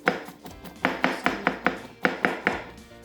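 Nine sharp, close knocks on a cutting board, in quick uneven succession, as the back of a kitchen knife presses and strikes vegetables for a stir fry.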